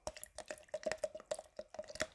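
Washing-up liquid is stirred for a homemade volcano experiment, giving quick, faint wet squelching and dripping clicks in an uneven rhythm, close by with no talk.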